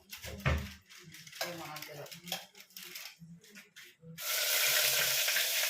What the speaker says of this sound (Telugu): సో మొత్తానికి ఆనియన్ కొంచెం ఫ్రై అయిపోయింది